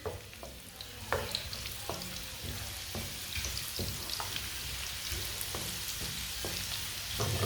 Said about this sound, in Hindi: प्याज को 1 मिनट के लिए पका लेते हैं।